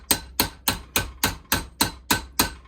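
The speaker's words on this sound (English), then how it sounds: "and then hammering the other side of the roll." Sheet metal is hammered over a roll for a bobber motorcycle in sharp, evenly spaced ringing blows, about nine strikes at a steady brisk rhythm, close and loud.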